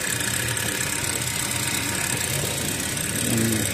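A Mazda RX5 engine idles steadily just after starting, a close, continuous low rumble with a slight rise in revs near the end and no talking.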